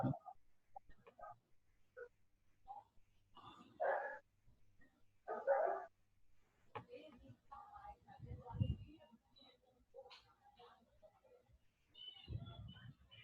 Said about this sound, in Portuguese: Tem um cachorro aí, hein?